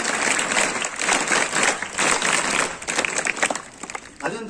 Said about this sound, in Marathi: अरे जोरानं वाजवा ना जरा